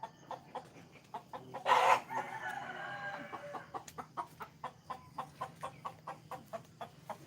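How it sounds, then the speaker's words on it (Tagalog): In a garden, a chicken gives a loud, brief crow-like call, then settles into a steady run of soft, rhythmic clucks repeating every fraction of a second, close by and without speech. "Ayun yung manok"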